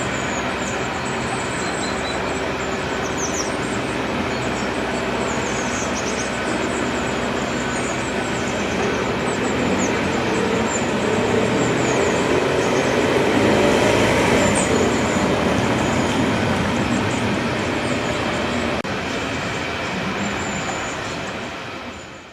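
Steam locomotive 71000 Duke of Gloucester arriving at Carlisle station, heard as a steady, loud rumble of train movement and rail noise that builds slightly in the middle and fades at the end, with no talk.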